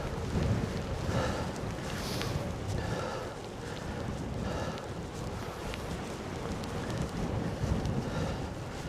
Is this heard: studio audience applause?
no